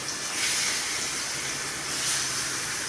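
Steady hissing sizzle of salted gourd pieces frying in hot oil in a wok, loud and continuous with no talking.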